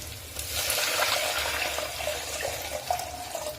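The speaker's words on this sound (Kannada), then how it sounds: "ಈಗ 1 ಗ್ಲಾಸ್ಗೆ 2 ಗ್ಲಾಸ್ ಅಷ್ಟು ನೀರು ಹಾಕೋಣ." Water poured into a cooking pot while making plain kushka: a continuous splashing, gushing stream that swells quickly and holds steady for a few seconds, close by, with no talking.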